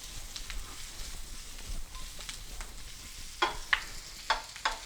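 Butter stirred into a hot pan for a crispy-skin salmon dish, with a soft steady sizzle and a few sharp scraping strokes of the spoon toward the end.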